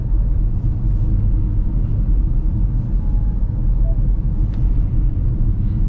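A 2025 Ford Mustang Mach-E Rally driving under electric propulsion gives a steady, loud low rumble of road and drivetrain noise throughout, with a faint high whine over it and no talking.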